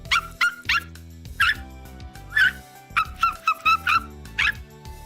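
A person imitates a little puppy with a string of short, high-pitched yips and whimpers in quick, uneven bursts, close and fairly loud.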